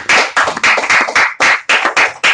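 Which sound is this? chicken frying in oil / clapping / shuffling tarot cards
clapping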